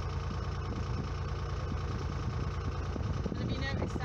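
A boat's engine runs steadily at throttle while pushing slowly into strong headwinds, a constant mid-pitched drone with wind rumble filling the background throughout.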